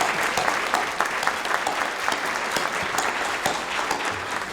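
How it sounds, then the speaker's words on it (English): Applause from a conference audience at an education keynote event, a dense patter of many hands with a few sharper individual claps standing out, steady for several seconds. "maybe we should all give you a good round of applause here"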